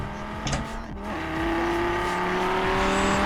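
An Audi RS2 engine in the video game Forza Horizon 4 hums steadily, its pitch slowly climbing as it revs, with no talking over it.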